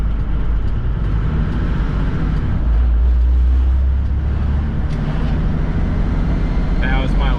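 A 1987 Toyota Land Cruiser HJ61 with a 12H-T turbo diesel pulls hard under acceleration, a steady loud cabin drone with road rumble as the turbo spools, and a brief voice at the end.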